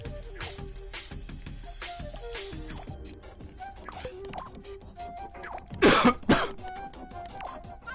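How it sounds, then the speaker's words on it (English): A streamer playing LittleBigPlanet 3 coughs and clears their throat several times over soft game music, with one loud, harsh coughing burst near the end. "Sorry about the coughing."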